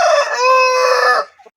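An Aseel rooster on a farm gives one loud, close crow lasting a little over a second, with a brief softer sound trailing after it and no talking.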